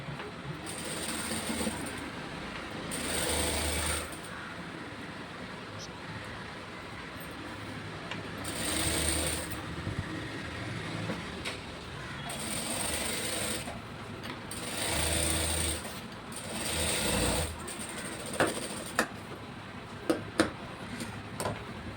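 A sewing machine stitches blouse lining fabric in several separate bursts of whirring, each a few seconds long, with quiet pauses and small clicks between them.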